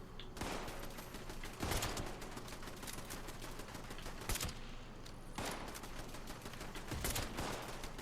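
Gunfire in the video game Fallout 76, bursts of sharp shots and rapid volleys recurring every second or two over a constant noisy background, with no talking.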